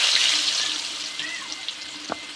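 Cinnamon and garlic frying in hot oil in a pan, a steady hiss and crackle with small pops and a faint clink of a utensil near the end.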